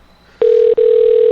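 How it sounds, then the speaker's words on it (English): A steady telephone ringing tone on a phone line starts abruptly, breaks off once very briefly, then resumes and holds continuously and fairly loud. "It's ringing."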